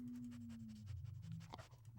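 A dog panting in quick, rhythmic breaths, faint and close, over a low steady hum.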